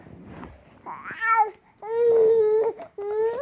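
A baby brother cries and babbles in a few short, wavering bursts with brief pauses between them, close by and fairly loud, in a home during a Clash of Clans game session.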